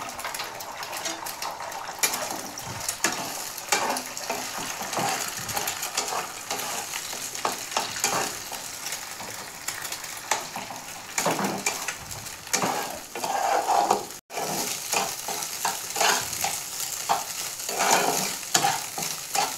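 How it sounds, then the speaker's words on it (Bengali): Salted egg scrambles bhujia-style in a hot pan with a steady, soft crackling sizzle, while a spatula scrapes and stirs almost continuously in close, busy strokes. "ডিমটাকে আমি ভালো করে ভুজিয়ার আকারে ভেজে নেব"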